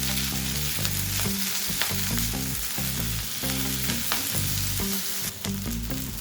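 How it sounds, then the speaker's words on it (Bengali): Garlic cloves and green chillies fry in hot oil in a pan for a Bengali doi katla curry, crackling and sizzling continuously with repeated sharp spits and stirring clatter, close and loud with no talking. "এবার এগুলোকেও সামান্য একটু সময় নিয়ে ভেজে"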